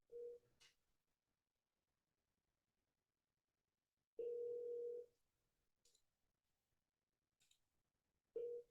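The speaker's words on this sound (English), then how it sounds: "Do you guys hear it ringing?" Telephone ringback tone heard during an outgoing cold call, steady tonal bursts separated by silent gaps, three rings over the stretch, with faint clicks between.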